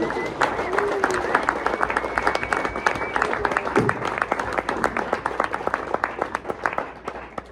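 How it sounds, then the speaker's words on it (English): A comedy show audience applauds steadily, with dense clapping and a few cheers filling the room, while a voice speaks over the crowd. "All right, guys, give yourselves a round of applause, huh?"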